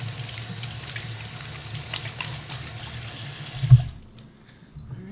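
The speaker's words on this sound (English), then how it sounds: "Let me rinse off my hands." Running water from a kitchen tap splashes steadily over hands being rinsed, close and fairly loud. It stops abruptly near the end with a last splash, leaving quiet room tone.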